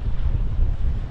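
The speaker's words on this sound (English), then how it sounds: "As you can see, it's very windy." Strong wind buffets the microphone at a creek hut on a fishing trip near Townsville, a loud, steady low rumble with gusty surges and no talking.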